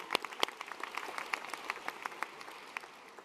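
Audience applause at the 43North startup competition finals in Western New York: a fairly quiet, steady patter of many hands clapping that thins slightly toward the end.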